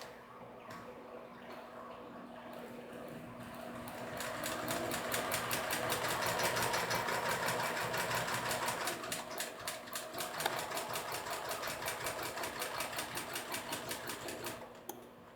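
A sewing machine stitches fabric with a rapid mechanical whirring and needle clatter that starts gently, speeds up into a fast steady run, then slows into distinct repeated ticks before stopping. Quiet and close, with no talking.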